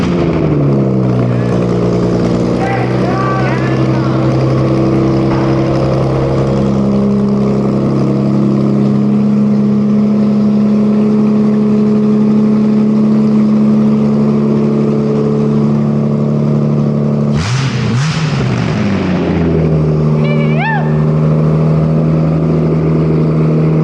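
A swapped Honda Intech engine runs with no alternator and nothing else hooked up, idling loud and close with a steady tonal drone, shifting pitch and blipping the revs once mid-run.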